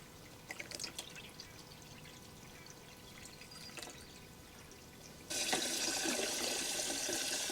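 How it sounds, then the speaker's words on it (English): Tap water pours into a 42 litre nutrient container for a small salad table, first as a soft trickle with faint clinks, then swelling abruptly into a louder, steady gushing fill. "And then we'll continue filling until the container is completely full."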